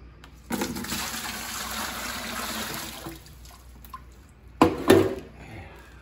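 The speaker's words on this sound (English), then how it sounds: "we are going to pour these in here and then just dump them in the tank" A steady rush of water pours into an aquarium tank for a few seconds, then fades, followed by a couple of louder splashes and gurgles near the end.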